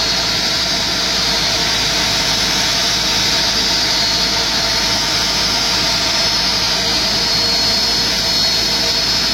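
Jet engines of a Malaysia Airlines Airbus A330-200 wide-body airliner whine loudly and steadily at close range, a constant high-pitched turbine hum over a broad roar with no break.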